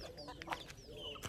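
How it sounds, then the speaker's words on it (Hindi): Chickens near a house in Sampa, Ghana, following someone in hope of food, soft clucking and short chirpy calls, faint and close, with no voices. "अरे मुर्गियाँ मेरे पीछे आ गई, ये सोचें कुछ खाने को देंगी"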